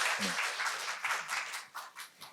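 Audience applause at a conference session on CDMO business expansion at BIOPLUS-INTERPHEX KOREA 2022: a short burst of clapping from a modest crowd that thins into a few scattered claps and dies away within a couple of seconds.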